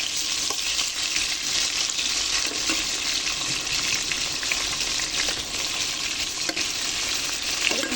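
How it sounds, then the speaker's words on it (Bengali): Pieces of young ash gourd fry in oil left over from frying pangas fish, giving a steady, dense close-up sizzle with occasional faint clicks of stirring, no talking. "তেলের মধ্যে আমি কুমড়াগুলো ভেজে নেবো"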